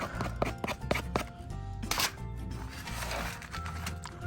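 A knife scraping a thin layer off a solid block of deer fat, a run of quick rasping strokes in a fast rhythm, then a brief pause and rougher, denser scraping, close up.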